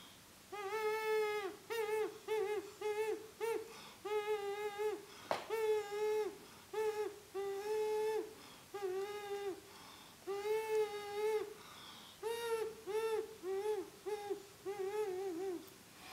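A whistle imitates an owl with repeated hollow hooting notes in short groups, steady and clear, with brief pauses between the calls.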